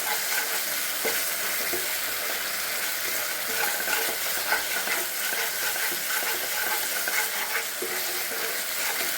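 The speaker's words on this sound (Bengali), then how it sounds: "মশলাটা অনেকটাই ভাজা হয়ে এসছে, আরও ভাজা হবে।" Spice paste fries steadily in a pan, giving a continuous close hissing sizzle with faint occasional stirring ticks and no voices.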